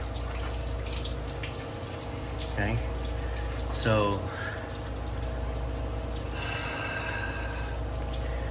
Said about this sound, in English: Why do we have hot water running here?